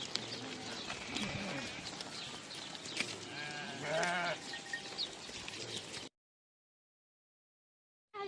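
Several sheep bleat loudly and close by, their calls overlapping amid rustling and shuffling, before the sound cuts to silence.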